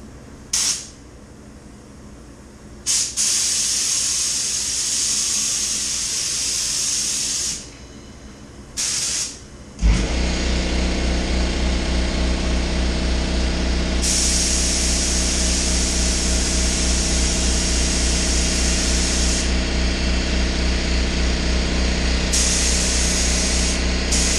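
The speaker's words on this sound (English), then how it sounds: "shoot it with our same gun, and we'll put on three coats" Spray gun laying clear coat onto the hard top of a 1968 Triumph TR250 during restoration: broken bursts of loud hiss at first, then a steady, close, continuous spraying hiss with no talking.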